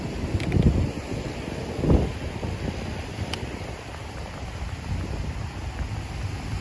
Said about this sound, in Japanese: 波の音がうるさいんでね